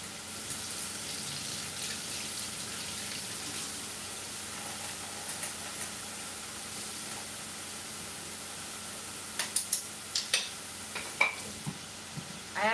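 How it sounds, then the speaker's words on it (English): Tap water runs steadily into a measuring container in a home kitchen while two cups are added, with a constant hiss and a few clinks and knocks near the end. "Which is going to be adding in 2 cups of water"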